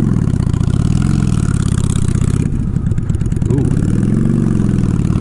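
Honda Shadow-style motorcycle engine running up close, a loud steady mid-pitched throb with slight variations in speed and a brief dip before settling back to a constant idle.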